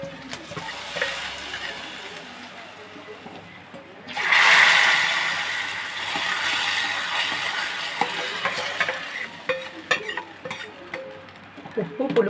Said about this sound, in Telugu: ఇప్పుడు ఈ పోపు అనేది ఇందులో కలిపించుకోవాలండి.